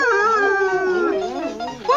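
A timber wolf in a cartoon howls loudly and up close, a long, wavering, gliding howl that rises and falls and carries on alone for about two seconds.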